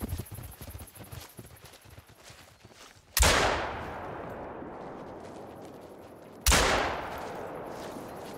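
Two loud, close hunting rifle shots in theHunter: Call of the Wild, each a sharp crack with a long ringing decay, spaced a few seconds apart after a stretch of quieter rumbling ambience.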